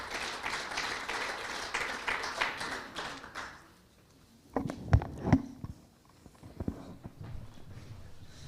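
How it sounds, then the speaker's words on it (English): A dense burst of audience applause in a hall at a Gaelic football cup draw, lasting a few seconds before fading, followed by a few isolated knocks and taps. "So give them all a nice round of applause"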